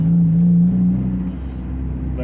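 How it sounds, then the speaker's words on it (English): A car's exhaust drones while driving, a loud low rumble with a steady tone that eases slightly after a moment, heard from inside the vehicle with no talking. "But as you can hear, the exhaust is different."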